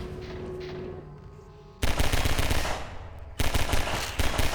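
Loud bursts of automatic gunfire in a video game, two sustained volleys of rapid shots breaking in after a quieter stretch of game ambience, with no talking.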